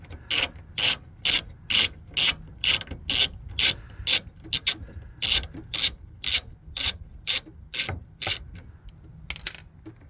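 A ratchet wrench removes a 10mm bolt on a 2007 Nissan 350z, producing close, crisp bursts of rapid ratcheting clicks in a steady back-and-forth rhythm, about a dozen strokes, with no talk.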